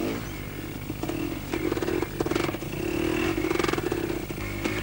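A 1990 Yamaha YZ two-wheel-drive motocross bike engine putters and revs at low throttle through mud, a close, rough, steady drone with repeated short pulses of acceleration.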